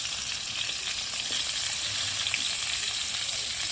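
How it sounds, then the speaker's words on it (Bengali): Potatoes and radish frying in hot oil, a steady, close, dense sizzle that holds evenly from start to finish with no talk over it. "এবার আলু আর মূলোটাকে লাল করে ভেজে নেব আর যতক্ষণ আলু আর মূলোটা ভাজা হচ্ছে"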